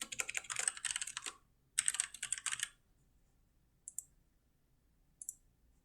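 Fast, close keystrokes on a computer keyboard while an email address is entered, two dense bursts of clicking followed by a couple of isolated taps amid near silence.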